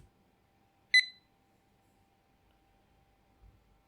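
A single short electronic beep, bright and clear, sounds once against near silence as an AMD Geode GX single-board computer powers on, followed by a faint low thump.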